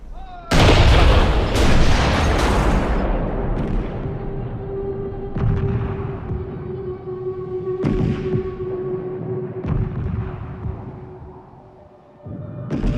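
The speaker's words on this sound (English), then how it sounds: "they must bring in their huge Krupp cannons that fire 1-ton shells." Heavy Krupp cannons firing 1-ton shells boom one after another, each deep thud followed by a rumbling echo, loud and spaced a few seconds apart.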